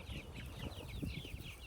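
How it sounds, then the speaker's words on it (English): A flock of backyard chickens, hens and roosters together, clucks and murmurs steadily at close range, with overlapping calls and soft flutters forming a busy, continuous farmyard chatter. "Actually, I think I see more hens than I do roosters in this batch."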